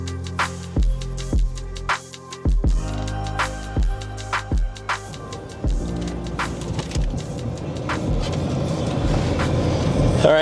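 A truck rolls along the road, its engine and tyre rumble rising into a steady broadband hum in the second half, after a stretch of plucked music up front.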